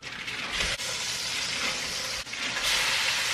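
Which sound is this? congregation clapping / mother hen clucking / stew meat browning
stew meat browning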